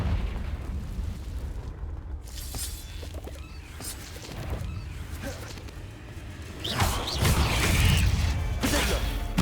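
Repeated Confringo fire-spell blasts in Hogwarts Legacy, dull booming bursts over a dense rumbling game soundscape, swelling into a louder, heavier explosion near the end.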